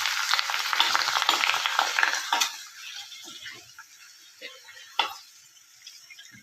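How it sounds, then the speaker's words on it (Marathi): Finger snacks drop into hot oil in a home kitchen, setting off a loud, close burst of sizzling that gradually settles into a quieter crackle, broken by a sharp metallic clink partway through. "आता तेल गरम करायला टाकलेलं आहे आणि ही फिंगर आहेत. आता मी इथं फिंगर टाकत आहे गाईस. त्याला तळतो"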